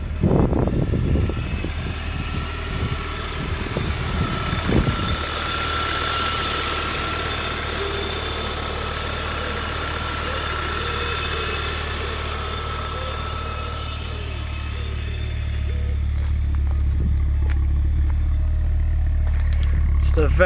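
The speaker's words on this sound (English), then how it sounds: "A very subtle burble from the exhaust that doesn't intrude at all on the motorways." A cold Audi RS6 engine idles steadily with a low, soft exhaust rumble, close by; a few knocks and clicks sound early on, then the idle settles and deepens slightly.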